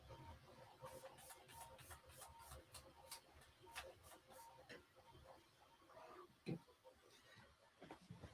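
3D printer extruding filament through its nozzle: quiet rhythmic stepper-motor buzzes and ticks repeating in short bursts, faint and close, with a sharper knock near the end.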